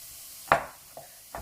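Three crisp knife chops through tough mushrooms on a cutting board for wild rice soup: one firm, louder cut followed by two lighter ones at roughly even spacing, close and clear in a quiet kitchen.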